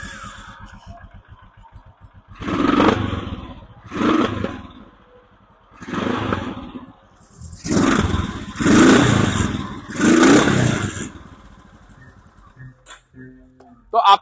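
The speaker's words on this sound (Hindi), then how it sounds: "अब सुनते हैं इस इंजन का एग्जॉस्ट नोट कैसा है।" Royal Enfield Himalayan 822 twin-cylinder motorcycle engine revving, with five or six loud exhaust bursts rising and falling over a steady idle, close by and heard alone.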